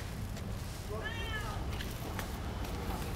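A cat gives a single faint, rising-then-falling meow over a steady background hum, with no talk during the call.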